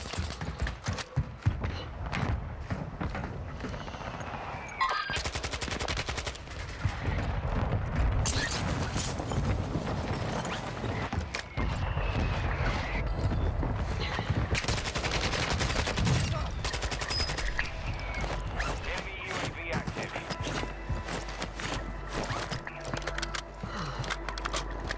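Kastov 5.45×39mm rifle fire in Warzone 2 at Vondel: rapid bursts of automatic shots, loud and close, repeating across the stretch with brief pauses and game noise between volleys.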